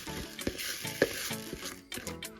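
Golden basmati rice for jollof rice is tipped into a pot, producing a quick series of close, light rattling taps and scrapes with short pauses between them.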